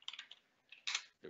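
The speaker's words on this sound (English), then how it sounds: "Sorry, I can't type and talk at the same time." A few quick computer keyboard keystrokes tap faintly in a short burst, light close clicks with a slightly louder cluster at the end.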